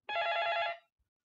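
A telephone bell rings once in a short, bright electronic trill lasting under a second, close and clear against an otherwise silent background.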